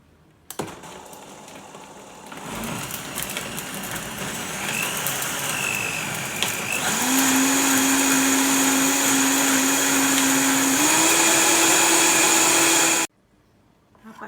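Mixer grinder blending mint and coriander leaves with water for pani puri, a loud whining motor that revs up, runs steadily, shifts pitch once and then cuts off abruptly.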